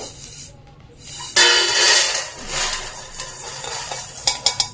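Roasted coriander seeds being tipped from a hot pan onto a plate, a sudden rush of rattling, hissing seeds followed by softer scraping and a few sharp clinks of a utensil against metal.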